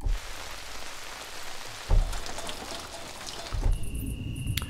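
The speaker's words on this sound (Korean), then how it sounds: "레인 빗소리 이런 것도 있어요" Steady rain sound effect from a virtual instrument, a dense broadband patter with a couple of heavier splashes partway through, no voices.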